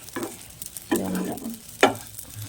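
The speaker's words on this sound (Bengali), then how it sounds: "এই যে চালটা একদম ভালো করে ভেজে নিয়েছি" Rice frying and being stirred in a pan for pulao, soft scraping strokes in a few separate passes over a low sizzle, close and moderately quiet.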